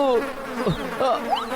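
Cartoon honeybees buzz in a swarm, a close, wavering whine with rising and falling sweeps that rolls on without pause.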